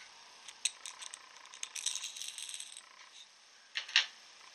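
A small metal washer slipped onto a bolt gives light, close metallic clinks and rattles, a few scattered taps followed by a brighter clink near the end, faint against a quiet room.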